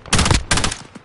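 Automatic gunfire in Warzone: two loud, close bursts of rapid rifle shots about a third of a second apart, each a dense rattling volley, followed by a faint trailing shot.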